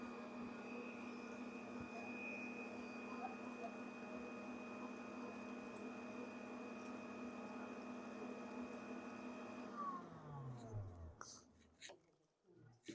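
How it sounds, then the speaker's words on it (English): An electric mixer hums steadily as it stirs warm water with honey and molasses for bread, a constant close motor drone that winds down near the end, followed by a few faint clinks. "Then I turn my mixer on to kind of mix up the sweetener, the honey,"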